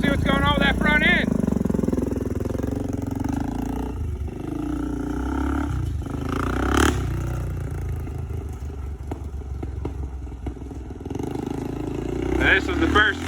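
Motorcycle engine roaring steadily on a test ride of a 400 after a crash, checking a front-end problem, loud and close with wind rush and a voice talking over it.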